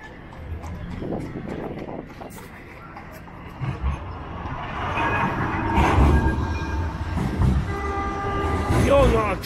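A packed Blackpool tram rolls along on a busy Easter Saturday, its rumbling run building steadily louder with a short horn-like tone near the end, amid crowd bustle and faint voices.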